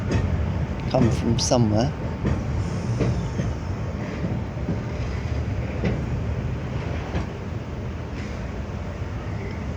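A train pulls into London Charing Cross station, its loud, steady rumble filling the platform, with faint wheel squeals and clatter near the start, while a voice speaks briefly over it.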